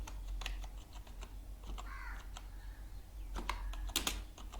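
Typing on a computer keyboard while entering text in Microsoft Word, a run of close, quick key clicks with a few brief pauses over a low background hum, no speech.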